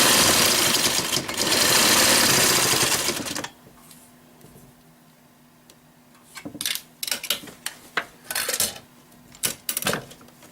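A sewing machine stitches fabric for dog bows and crate pads: a few seconds of dense, loud mechanical whirring, then a quiet pause, then a run of short stop-start stitching bursts.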